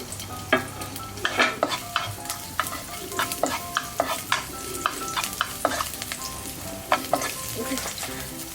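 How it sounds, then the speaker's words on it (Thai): Garlic stir-fried in about a tablespoon of oil in a hot wok, a steady close sizzle and frying hiss broken by repeated scraping clacks of a spatula against the pan, with no talk. "ใส่กระเทียมลงไปผัดให้หอมนะคะ"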